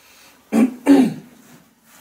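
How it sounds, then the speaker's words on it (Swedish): A person clears their throat twice in quick succession, two loud, close, raspy bursts with a short cough-like edge, followed by quiet. "Jävla hosta."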